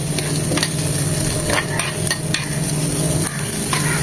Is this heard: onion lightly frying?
yes